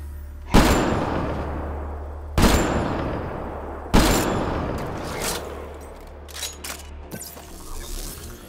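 Turrets fire in the video game Mass Effect Andromeda: three heavy booming shots spaced about 1.5 seconds apart, each with a long rumbling decay, followed by a scatter of lighter, quicker pops in the distance.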